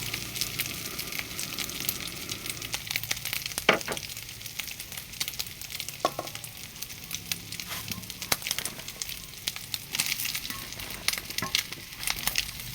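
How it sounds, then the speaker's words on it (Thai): Egg stir-fried with minced pork in a pan sizzles steadily and close up. Sharp crackles and intermittent scraping clicks of stirring run throughout, with no voices. "ตอนนี้กำลัง คั่วไข่ครับ ใส่กับหมูบดคั่วไข่ใส่กับหมูบดอยู่คร"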